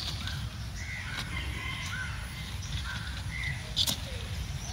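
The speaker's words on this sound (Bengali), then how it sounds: "শুনতে পাচ্ছেন আমাদের এখানে পাখির কিচির মিচির আওয়াজ?" In a morning home garden, a crow caws several times at moderate distance over a soft, steady outdoor background, with light bird calls scattered through.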